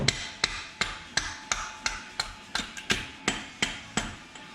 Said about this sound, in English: I've got a hammer here.